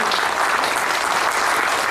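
Sustained audience applause at a lecture-series event, a dense, steady wash of clapping from a large crowd, loud and even throughout with no voices standing out.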